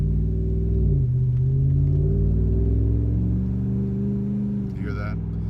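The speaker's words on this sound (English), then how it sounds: "That's accelerating from a stoplight." A Honda Rebel motorcycle with a Carven progressive exhaust pulls away from a stoplight, its low engine drone climbing in pitch through the gears, loud and close with a voice faintly over it near the end.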